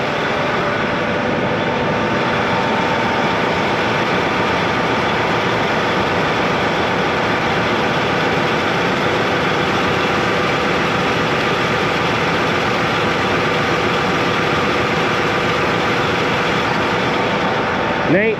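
A 9410 tractor engine idles nearby in a loud, steady, unbroken low drone that holds at an even level for the whole stretch.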